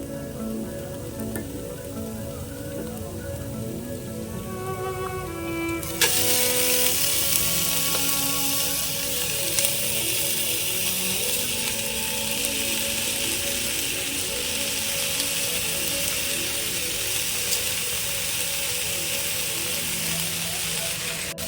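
Washed basmati rice goes into a hot pot for Yemeni-style chicken mandi. After a quiet stretch with a low hum, a loud, hissing sizzle starts suddenly and continues steadily, with faint crackles and scraping.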